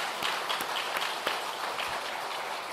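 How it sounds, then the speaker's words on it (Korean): A church congregation at a Christmas service claps for the choir. The applause is continuous and moderately loud, with a few sharper individual claps standing out from the crowd. "우리 찬양 배원들을 위해서 우리 한번 박수로 다시 한번 격려하겠습니다"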